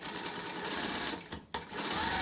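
A sewing machine hums steadily as it stitches jersey fabric for a snood at slow speed, pausing briefly midway before running on, close and moderately quiet.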